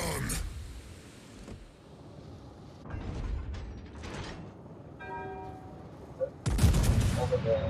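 Video game gunfire cracks out in a loud burst near the end, after mechanical clicks and rattles, with a player's voice talking over parts of it.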